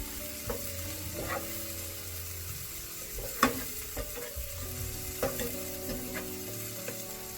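Small capsicum pieces fry in oil in a pan for paneer bhurji, a steady close sizzle broken by repeated scraping clinks of a spoon stirring, with no voices.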